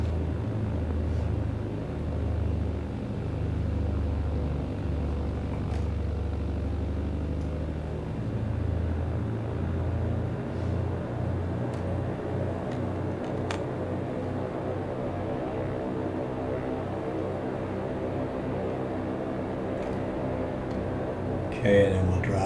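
A BN2 Islander twin-engine propeller plane taxis toward runway 10, its engines giving a steady low droning rumble that holds throughout, with occasional faint radio and cockpit voices beneath.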